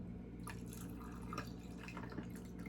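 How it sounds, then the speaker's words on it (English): Coffee trickles and drips steadily into a cup, a soft continuous pouring with small splashy spikes over a low background hum. "I'm gonna pour some coffee."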